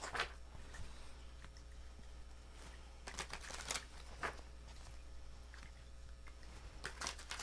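Tarot cards being shuffled by hand in a quiet room: soft papery riffles and slides in irregular bursts over a low steady hum, close and fairly quiet, no talking.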